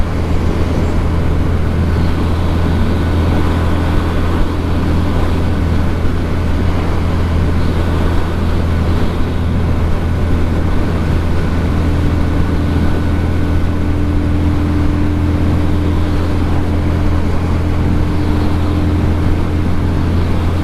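A Lifan Lycan 250 motorcycle engine drones steadily and loudly while cruising on the road, a continuous low hum with wind rush and no talk.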